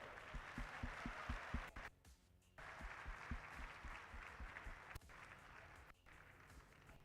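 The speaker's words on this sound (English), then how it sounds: "And another round of applause for the decoy." Outdoor crowd at an airshow applauding after a military working dog demonstration, a steady wash of clapping with a few louder nearby claps, briefly dipping and then resuming at moderate level.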